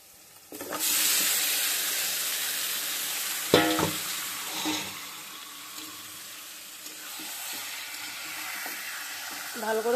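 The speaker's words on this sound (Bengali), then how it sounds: "এখন মাংসটা দিয়ে দেব।" Meat added to a pan of onions and garlic already fried until reddish, sizzling steadily for a Bengali pulao-and-meat lunch, with a loud clatter and stirring bursts near the middle over continuous close frying hiss.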